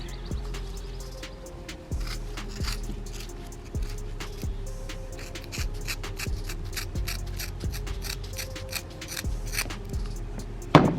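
Cutting a 304 stainless exhaust pipe during a Ford F250/F350 6.0 Powerstroke exhaust install: a steady mechanical rasping with repeated strokes, close and moderately loud, with no talking.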